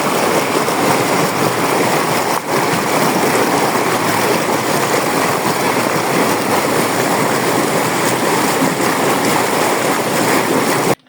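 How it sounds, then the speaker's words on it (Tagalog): Strong sea waves at Dingalan beach, surf crashing and churning loudly and continuously close by in a dense roar with no letup and no talk. "tingnan natin kung gaano kalakas yung alon at kung gaano kalamig ang tubig dito sa Duping."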